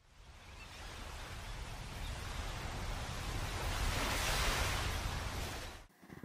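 Surf rolling in on a beach on Indonesia's south coast along the Indian Ocean, a broad continuous wash of breaking waves that swells toward the middle and then drops away abruptly, with no voices.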